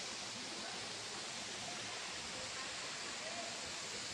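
Cusarare waterfall in Copper Canyon, heard from the very bottom of the falls: a steady, dense roar of crashing water that fills the whole clip without pause, close and broad, with no voices over it.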